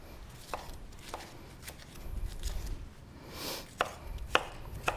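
A knife chops tomatoes on a cutting board in a few sharp, irregular strokes, louder and clustered toward the end, over a low background rumble with no talking.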